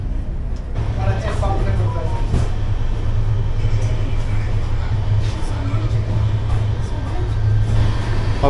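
A Duronto Express rake rolls steadily at a station, a continuous low rumble and rattle of railway cars persisting throughout, with a voice talking over it.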